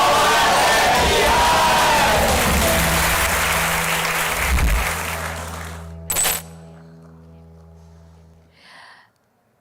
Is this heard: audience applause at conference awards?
yes